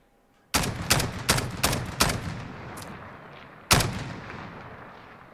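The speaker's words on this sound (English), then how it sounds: "I'll fire off a couple rounds here standing." An MK 20 SSR rifle fires in Call of Duty Modern Warfare from a standing position, with five loud, sharp reports in quick succession and then one more shot after a pause. The shots are close and clear, with no talk.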